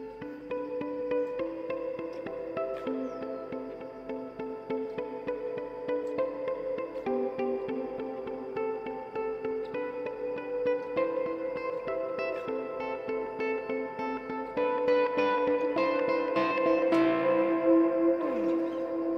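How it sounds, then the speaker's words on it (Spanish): An electric guitar plays a song intro with overdrive and reverb switched on, picked with thumb and index finger in steady, palm-muted figures that ring with echoing tails, growing slightly louder toward the end. "empezamos con el intro de la canción y tengo prendido el drive y el reverb"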